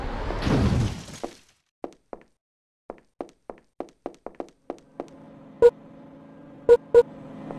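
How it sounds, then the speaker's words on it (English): In SAKURA School Simulator, a car is struck with a weapon: a brief rush of noise, then about fifteen sharp, separate knocks and thuds at uneven intervals. A faint hum sits under the later hits. "Hit the car using weapon or attack with hands."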